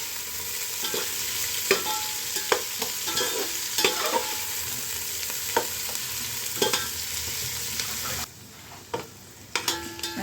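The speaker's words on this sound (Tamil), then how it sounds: "ஒரு டூ டு த்ரீ மினிட்ஸ் வந்து இதை நல்லா வதக்கி எடுத்துக்கலாம் அதாவது கோல்டன் ப்ரௌன் ஆகிற மாதிரி நம்ம வதக்கிடலாம்" Onions sautéing toward golden brown for a Karnataka-style donne chicken biryani, a continuous close sizzle with repeated sharp scrapes and clacks of a spoon stirring the pan.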